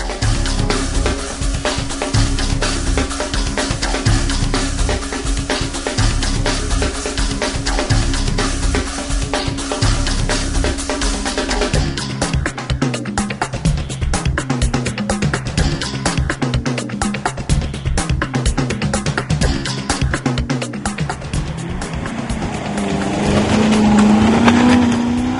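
Maserati GranTurismo coupé being driven, its engine droning and revving through gear changes, loud and close with shifting pitch and a rising surge near the end.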